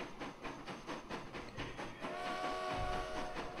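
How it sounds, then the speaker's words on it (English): Train running in Transport Fever 2, a steady rolling rumble with rhythmic clickety-clack and a sustained whistle-like tone rising midway, continuous and fairly close. "I'm going to end the episode with this train ride"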